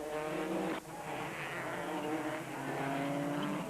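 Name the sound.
rally car engine at high revs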